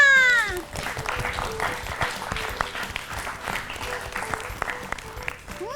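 Applause on a children's quiz-style learning show, clapping heard under a cartoonish meow-like sound effect at the start, with a voice over the clapping.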